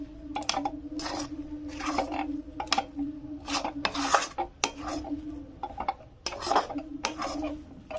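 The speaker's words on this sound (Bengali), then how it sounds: "এবার এখানে আমি আতপ চালটা দিয়ে দেবো আর নাড়তে থাকবো।" Sun-dried atap rice stirred in a pan on a gas stove for a winter rosh malai pitha, giving a steady run of scraping, rasping strokes against the metal with soft clinks, close and moderately loud, no voices.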